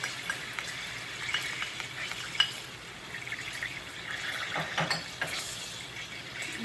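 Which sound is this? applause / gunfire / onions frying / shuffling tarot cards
onions frying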